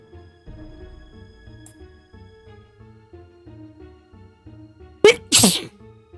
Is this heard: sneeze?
yes